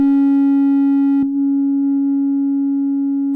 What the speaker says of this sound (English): We will need a sine wave